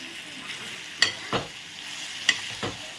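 Raw mango and jaggery are stirred in a pan: two pairs of sharp spoon scrapes and clinks cut through a faint, low sizzle.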